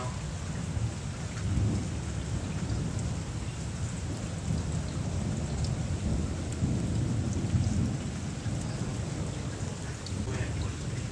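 A fierce thunderstorm in Europe pours heavy rain in a constant loud roar, while deep thunder rumbles swell and fade beneath it throughout.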